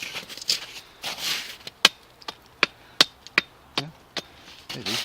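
A Cold Steel kukri machete shaves and chops a wooden feather stick outdoors, giving a string of crisp, irregular knocks and scraping strokes, fairly close and moderately loud.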